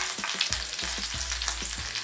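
Ingredients for soya chilli fry in hot oil, a dense continuous sizzle with soft low thumps at intervals as the pan is stirred, close and steady without talk.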